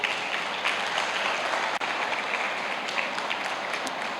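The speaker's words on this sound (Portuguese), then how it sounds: "Dê um aplauso ao Senhor." A church congregation applauds during a worship service, a dense, even patter of many hands clapping together for about four seconds.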